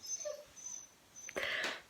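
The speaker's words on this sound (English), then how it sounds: "We've had the dogs. You might be able to hear one of them" A dog whimpers quietly indoors in short high whines, faint at first and then a brief louder yelp near the end, with no one talking.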